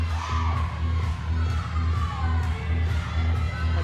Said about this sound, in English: you can see her teammates cheering her on from that corral